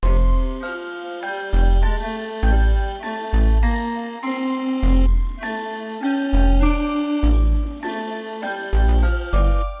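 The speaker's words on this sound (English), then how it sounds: "Here's the bass line I played." Repeating melodic pattern of bell-like tones from a Pokemon sample with a deep bass line underneath, part of a West Coast beat made in FL Studio; steady rhythm, loud and alone without any voices.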